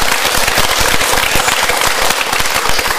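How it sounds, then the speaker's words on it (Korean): A studio audience at a televised town-hall style talk show bursts into loud, dense, close applause, with rapid crackling claps sustained throughout. "박수 한번 주시죠."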